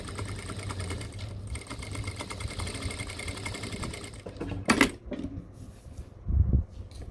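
Sewing machine stitching a seam on cargo pants, a steady close rhythmic whir for about four seconds, then it stops, followed by a couple of sharp clunks and handling thumps, no voices.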